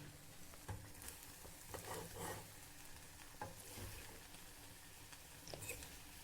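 Masala mixture being stirred in a pan on a gas stove for a Malayalam home-style curry, with a soft continuous sizzle and scattered scraping clicks of the spoon, close and moderately quiet, with no talk.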